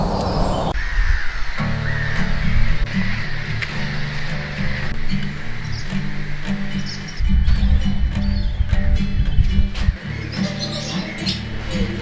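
A crow caws harshly several times outdoors in Sweden, set against a steady musical drone and other background sound.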